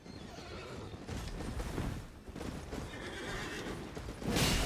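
A horse in Elden Ring neighs and whinnies loudly, with hooves clip-clopping, the whinny rising into a sharp squeal at the end.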